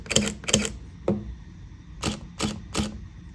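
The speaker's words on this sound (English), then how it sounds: "I think the SL has got a more dampened and quiet shutter" A Leica SL mirrorless camera's dampened, quiet shutter fires six times, two quick pairs and a single release in between, each a crisp close mechanical click with a soft return, standing alone in a quiet room.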